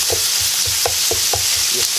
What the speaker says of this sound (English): I'm going to let this brown and continue stirring it and everything